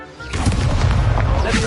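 A fire spell being cast in the Hogwarts Legacy video game makes a loud, booming burst that hits after a short lull and then rumbles on as a dense, roaring blast to the end.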